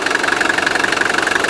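A 1983 Mercedes 240D diesel engine idles up close, a loud even clattering knock with a fast regular pulse, steady throughout with no voices.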